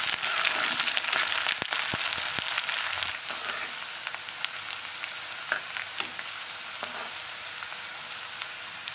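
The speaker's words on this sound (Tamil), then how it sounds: "எல்லாம் நல்லா பொன்னிறமாக வெந்து வரட்டுங்க" Crushed green chillies frying in hot oil for fish curry, a continuous moderate sizzle with sharp crackles and occasional spoon clicks, no one speaking.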